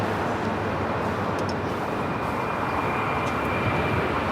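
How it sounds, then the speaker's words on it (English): A JetBlue Airbus A321 jet at Los Angeles International Airport gives a steady, broad engine roar, constant and fairly loud throughout with no pauses. "This JetBlue flight heading to JFK, flight 524. A321."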